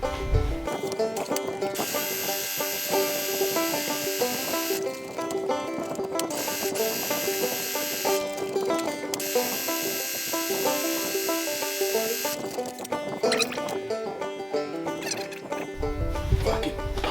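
A sewing machine runs a long continuous seam on pro wrestling trunks, a steady, loud, rapid mechanical chatter with brief shifts in pitch and speed.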